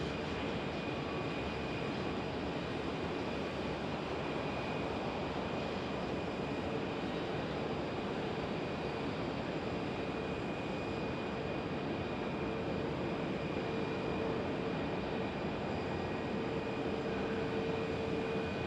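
A Boeing 757 airliner at Phoenix Sky Harbor Airport produces a steady broadband engine roar with a faint high whine, sustained and even throughout, heard from a distance without talk.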